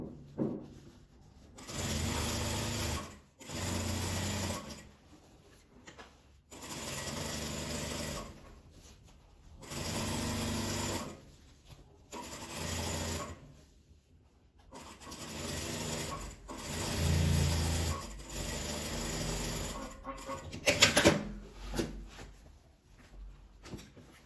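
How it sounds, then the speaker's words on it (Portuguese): A sewing machine stitches stretchy knit fabric in repeated bursts of several seconds each, with short pauses between runs. The buzzing is close and steady, and no one speaks. "E agora eu vou costurar o meu soft, o tecido U que estica, tá do lado de baixo."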